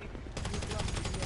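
A rapid burst of automatic gunfire in GTA 5, repeated shots in quick succession that grow louder after a quieter opening.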